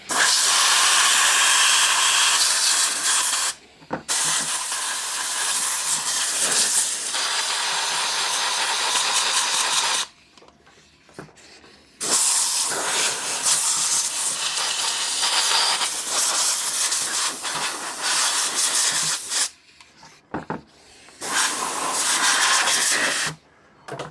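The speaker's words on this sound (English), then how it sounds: "I'll get the air in, give it a blowout" An angle grinder under repair gets blown out with compressed air in several loud, close hissing bursts, separated by short pauses.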